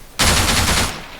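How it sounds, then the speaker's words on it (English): An AI soldier lying prone in ARMA 3 opens up with a machine gun, a single loud, close burst of rapid fire lasting under a second, then a short fading tail. "Let's tell my guy to open fire here."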